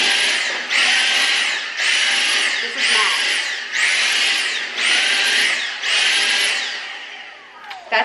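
A Dyson V6 cordless vacuum runs at max suction in loud repeated surges, roughly one per second, each a bright whooshing roar that dips between bursts before fading near the end.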